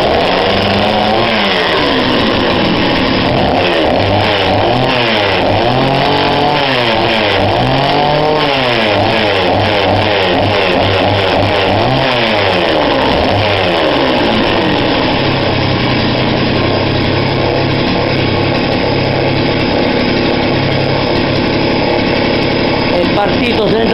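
Mac chainsaw engine running loud and close, its pitch sweeping up and down repeatedly as the throttle is blipped, then settling into a steady idle through the final seconds.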